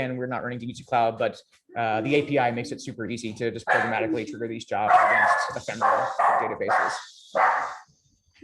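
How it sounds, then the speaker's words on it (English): Dogs bark and yip in the background of a home during an online talk, heard under someone speaking continuously about software. "Sorry about my dogs."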